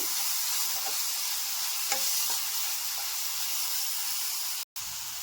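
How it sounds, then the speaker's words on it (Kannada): Grated carrot and turmeric sizzle in a pan, a steady close hiss of frying with faint stirring scrapes, briefly cut off near the end, no voices. "ಈಗ ತುರಿದಿಟ್ಕೊಂಡಿರೋ ಕ್ಯಾರೆಟ್ ಹಾಕ್ಕೋತಾ ಇದ್ದೀನಿ ಹಾಗೆ ಅರ್ಶಿನೂ ಹಾಕ್ಕೋತಾ ಇದ್ದೀನಿ ಇದನ್ನು ಕೂಡ ಫ್ರೈ ಮಾಡ್ಕೋಬೇಕು"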